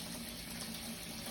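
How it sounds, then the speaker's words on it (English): Cold tap water runs steadily over rice in a colander as it is rinsed, a soft, even, close rush of flowing water. "put the rice in the colander and just rinse off the dust and start cold water always"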